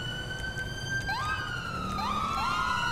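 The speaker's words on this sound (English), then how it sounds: "We need to go and get our siren back on." A police car siren in GTA 5 wails continuously, with overlapping rising and falling tones over a steady engine rumble.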